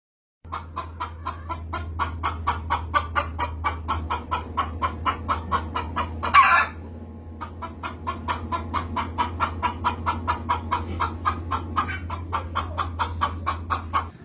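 Two chickens cluck in a steady, rapid rhythm of short repeated calls, close and clear over a low hum. One brief louder squawk or rustle breaks in midway, then the clucking carries on.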